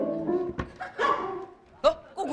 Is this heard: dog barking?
yes